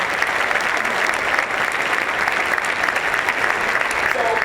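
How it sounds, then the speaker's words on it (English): Steady applause from a large audience at a diversity event, dense clapping sustained at an even level throughout, with a faint voice cutting in near the end. "give the civil rights movement a round of applause"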